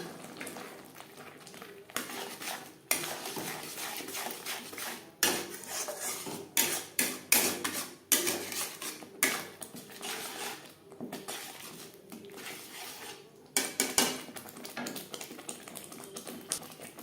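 Ground spices being stirred and fried in a pan while cooking fish-head muriganta, heard as steady close scraping and clatter of a spatula against metal, with bursts of louder stirring throughout and no talk.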